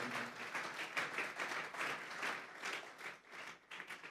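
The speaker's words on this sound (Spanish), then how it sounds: "Vamos a darle una ofrenda de palmas a Dios en esta hora." A church congregation claps in praise to God during a Spanish-language sermon, a dense, steady wash of applause from many hands filling the room for several seconds.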